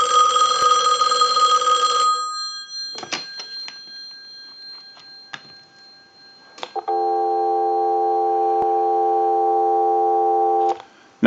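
A Western Electric 2500 desk telephone rings with a loud electromechanical bell burst at the start, followed by some handling clicks and then a steady dial tone held for several seconds, with no talking.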